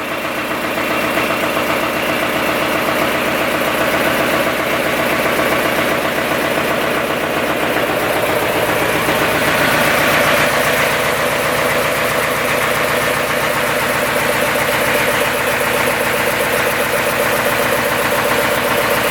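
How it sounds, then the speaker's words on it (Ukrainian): A MAN D0826 LFL10 diesel engine idles steadily nearby, a loud, even mechanical rumble with rapid knocking pulses and no voices. "Модифікація мотора D0826 LFL10."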